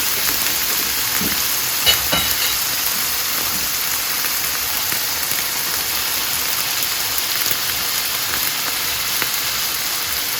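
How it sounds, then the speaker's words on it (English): Onions frying in a pan for a quick chicken pasta, a steady close, loud sizzle that hisses evenly the whole time with a few faint clicks of stirring and no talk. "I'm going to start adding the onions"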